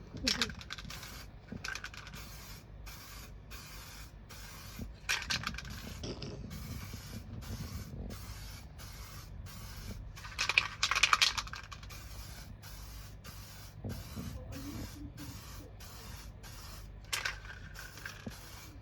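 A spray paint rattle can coats a Harley Benton DIY guitar kit body in a steady run of short, sharp hissing bursts separated by brief gaps, with faint voices now and then between sprays.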